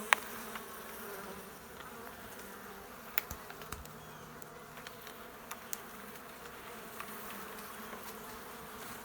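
Honey bees buzz around a large hive behind a chimney, a soft continuous hum with faint clicks and brief tapping sounds, heard at low level without talk.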